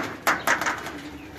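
Pigeon coos from high-flying pigeons kept in Lahore, two or three soft, rounded calls in quick succession at close range over a quiet background.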